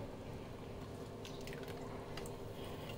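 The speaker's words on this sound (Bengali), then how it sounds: "বাটি ধুয়ে একটু জল দিয়ে দেবো।" Water from a rinsed bowl is tipped into a pan holding a yogurt-based vegetable curry paste, making quiet splashes and drips clustered in the middle of an otherwise faint, steady background.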